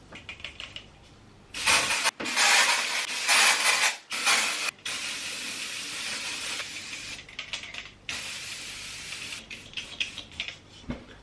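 Dry shampoo aerosol can sprayed in several long hissing bursts with short gaps between, close and loud, sputtering as the nearly empty can runs low.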